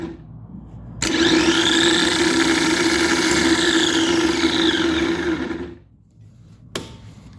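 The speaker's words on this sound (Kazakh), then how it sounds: "Стартер жақсы жұмыс жасап тұр." A Nissan starter motor cranks on test, giving a loud, steady whirring grind for about five seconds before it cuts off, followed by a short click after a pause.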